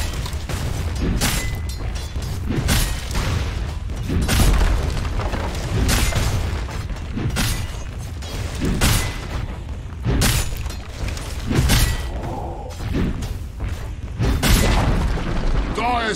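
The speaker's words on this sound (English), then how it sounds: "The Dire's top tower is under attack!" Dota 2 tower under attack and being destroyed, with repeated heavy booming impacts and crumbling bursts throughout a dense, continuous game mix over background music.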